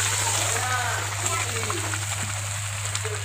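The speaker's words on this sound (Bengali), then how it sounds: "দেখুন কীভাবে ফুটতে শুরু করেছে।" Boiled dal and vegetables, with whole cumin and panch phoron, start bubbling in a pot for khichdi. A steady, rain-like simmer with faint pops sits over a low constant hum, and a voice is heard faintly.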